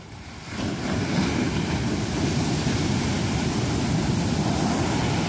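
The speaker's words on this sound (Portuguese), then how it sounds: "Olha o tamanho dessa onda que tá vindo aí, ó." Heavy surf on a rough sea rolling in and breaking on a beach while surf fishing, a loud continuous roar of water with wind noise on the microphone, with no talking.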